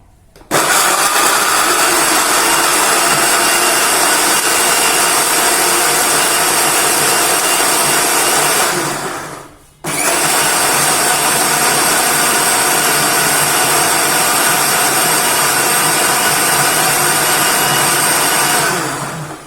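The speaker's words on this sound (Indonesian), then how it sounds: "Ini akan saya blender seperti ini" An electric blender grinds spice paste with water in a loud, steady roar that runs for about nine seconds, stops briefly, then starts again and runs on.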